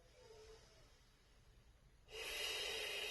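Breathing during a Pilates exercise: a quiet breath, then a long, loud hissing exhale that starts suddenly and holds steady to the end.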